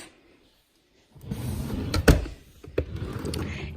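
A drawer pulled open in a craft room, a short sliding rumble with a sharp knock partway through and a second softer bump, close and alone after a moment of silence.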